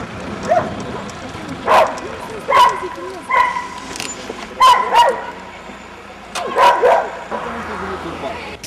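Stray dogs on a street in Făgăraș, Romania, bark in scattered bursts of sharp yips and barks with short gaps between them, fairly close, over a low background murmur.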